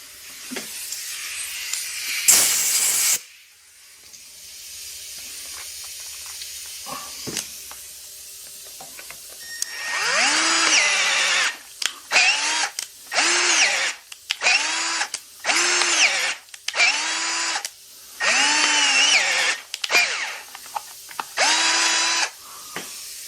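A pneumatic air gun works on a junk VW engine in a garage, firing a rapid series of short, loud whirring bursts separated by brief pauses after one early isolated burst and some quiet handling noise.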